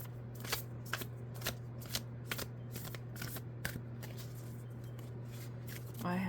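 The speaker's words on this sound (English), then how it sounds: "I have shuffled." Tarot cards riffle and snap in repeated shuffling bursts, roughly one every half second, close and crisp over a low steady hum.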